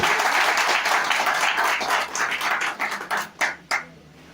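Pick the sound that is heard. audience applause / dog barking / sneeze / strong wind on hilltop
audience applause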